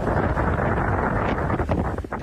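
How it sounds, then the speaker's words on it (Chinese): Strong wind and rainstorm in Zhanjiang, Guangdong, during the landfall of Typhoon Yagi. A dense, loud roar of gusting wind batters the microphone continuously, with heavy rushing noise throughout. "当地出现狂风暴雨。"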